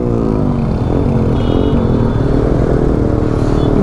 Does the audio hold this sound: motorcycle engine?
yes